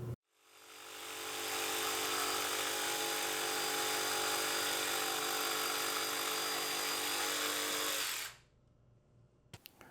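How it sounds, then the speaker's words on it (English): A jigsaw cuts a radius in wood for a picnic table: a loud, sustained buzzing whine ramps up, holds for several seconds and stops, followed by a few faint knocks. "Now it's time to take this to the jigsaw."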